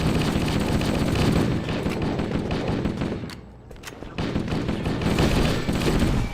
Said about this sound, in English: Wish I knew who was firing.